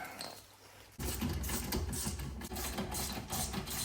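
A power tool whirs to life and tightens bolts during a brake pad change on a Porsche GT3, Cayman GT4 or Boxster Spyder, a loud continuous buzzing drive with a brief dip partway, after a quieter start.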